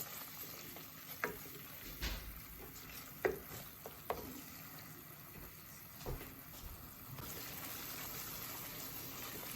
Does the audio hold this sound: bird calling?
no